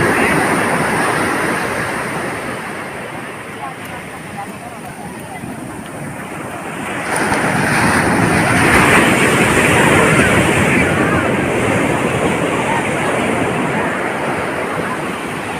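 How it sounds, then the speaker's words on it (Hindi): Sea waves roll onto Samiyarpettai Golden Beach with a steady roaring wash and heavy wind buffeting, swelling louder midway through. "और समुद्र की गर्जना"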